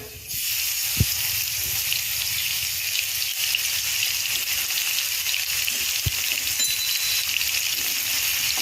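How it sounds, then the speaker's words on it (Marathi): Crushed garlic sautés in hot oil with cumin seeds, a continuous close sizzle and hiss with two sharp knocks of a utensil against the pan along the way. "लसूण तेलात चांगला परतला गेला की कढीपत्ता घालूया"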